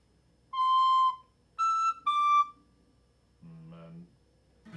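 A penny whistle or recorder plays a short, simple tune of a few separate clear notes with pauses between them, followed by a lower held tone, close and quiet in a songwriting session.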